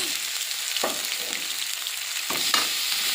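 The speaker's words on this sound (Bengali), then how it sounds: "আর লঙ্কা দিয়ে মশলাটা কষিয়ে নেব" A thick paste of ground cumin, coriander and poppy seed with chilli sizzles and fries in a pan, with steady crackling hiss and occasional scraping strokes of a spoon stirring it.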